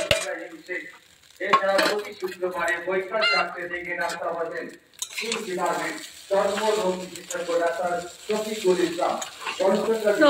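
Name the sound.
stirring fried chowmein with vegetables and egg in pan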